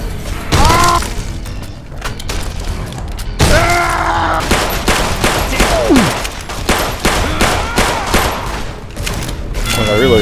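Gunfire in the video game Fallout New Vegas: a dense barrage of rapid shots and bursts, some booming impacts and a shattering hit, loud and close throughout, with a voice now and then under the shooting.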